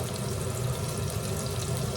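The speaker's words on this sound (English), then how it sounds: "And it's now frying well." Pork medallions fry in a pan with a steady, dense sizzle, close and even, with no voices.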